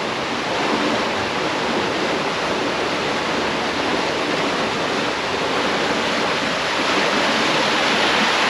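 Water rushing powerfully through a canal lock on a UK narrowboat trip, a steady, loud, roaring torrent like a waterfall, unbroken and alone for the whole stretch.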